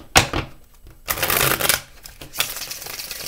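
A tarot deck is shuffled by hand close to the microphone. Bursts of riffling and flicking cards come in irregular clusters, and no one speaks during them.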